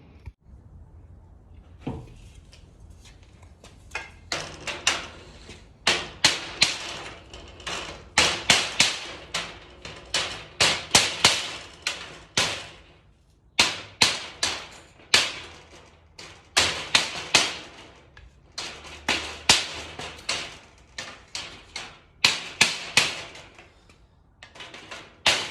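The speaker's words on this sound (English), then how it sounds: "piece of timber and hit it with a mallet, and this should pull apart" A mallet strikes a piece of timber held against a security sliding screen door roller housing to drive it apart, producing a long series of sharp, close wooden knocks in irregular bursts, some single and some in quick clusters.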